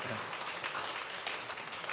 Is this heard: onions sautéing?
no